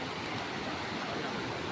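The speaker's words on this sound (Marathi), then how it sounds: "धबधबा पहा एकदमच भारी आहे" Palasdari waterfall pours in a steady, dense rushing roar, continuous and unbroken throughout.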